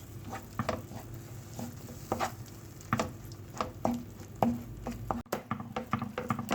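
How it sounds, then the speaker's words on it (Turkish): Eggplant in olive oil being stirred and sautéed in a pan, soft sizzling under repeated scraping strokes of a spoon at a steady, unhurried rhythm, close by and moderately quiet, with no talking. "Malzemelerimizi iyice kavurduktan sonra ocağımızı kapatıyoruz."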